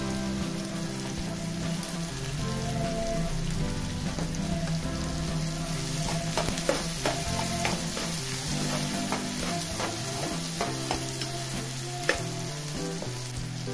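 Asafoetida dropped into hot oil for a Marathi drumstick masala, crackling and sizzling loudly and steadily while a spoon scrapes and stirs now and then, close up and with no voices.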